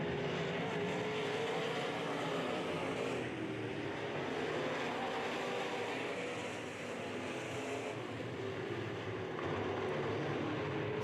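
IMCA Modified race cars racing past on a speedway at a fall nationals event, a continuous distant roar of engines that swells and fades slightly as the cars go by.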